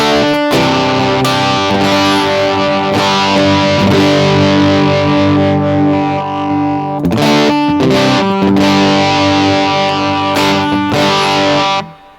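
An electric guitar through an EHX Metal Muff Pocket distortion pedal in asymmetrical clipping mode plays loud sustained chords and riffs with a gritty, saturated crunch, pausing briefly midway before resuming and ringing out.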